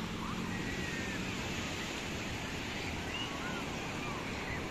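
Steady roar of surf on Baler Beach with wind buffeting the microphone, continuous and fairly loud throughout.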